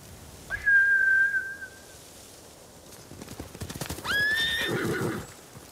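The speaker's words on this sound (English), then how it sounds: "Bastards scared off the horses" Horses in Ghost of Tsushima gallop off with a rapid clatter of hooves, while a long shrill whinny rings out early and another neigh breaks out near the end, fairly close and unaccompanied by speech.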